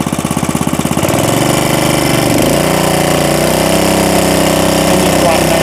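A used engine, apparently a small single-cylinder unit, chugs at idle with a pulsing beat, then is revved up into a loud, sustained, rougher drone close to the microphone.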